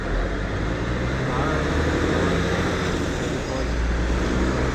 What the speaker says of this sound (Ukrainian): бо тут шумить машина